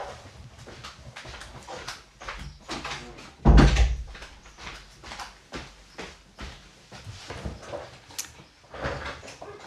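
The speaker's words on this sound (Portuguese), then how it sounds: "Deixa eu fechar a porta" A door swinging shut indoors lands as a single loud, close thud midway through, set against a quieter background of scattered soft knocks and rustles.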